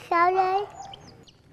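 A chicken gives a single sharp squawk held in the hands, loud and close, followed by a brief spoken question in Vietnamese.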